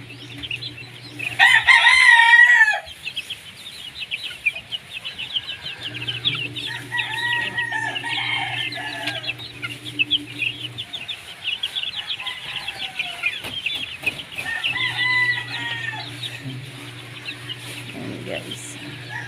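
Several roosters on a farm with around thirty chickens and small chicks, one loud crow up close at the start, then repeated clucking and further crows from birds at varying distances over a constant low hum.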